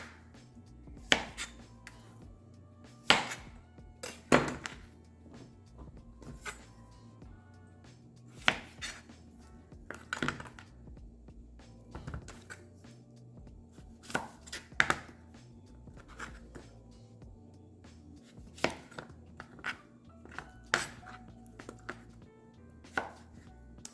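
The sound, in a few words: knife chopping zucchini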